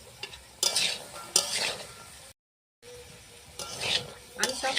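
Mixed vegetables and peas frying together in a pan for fried rice, a close hissing sizzle in bursts as they are stirred, with a brief silent gap midway.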